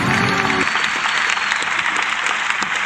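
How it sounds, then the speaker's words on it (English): A recorded round of applause plays at the close of a podcast, dense steady clapping from a crowd that runs loud and unbroken throughout. "this applause goes on for a while"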